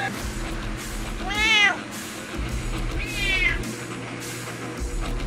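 A cat meows twice, each a drawn-out rising and falling cry, over a low steady background hum.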